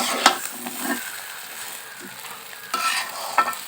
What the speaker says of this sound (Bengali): সবজিগুলো একসাথে মিশিয়ে আরেকটু তেলে নেড়ে নিব